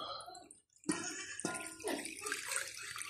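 Broth water pours into a cooking pot in a home kitchen, a splashing, gurgling stream that breaks off briefly and resumes, close and moderately loud.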